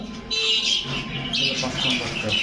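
Jhakgola pigeons, a flock offered for sale, give repeated close squawks and chirps in short overlapping bursts, with faint voices and background noise underneath.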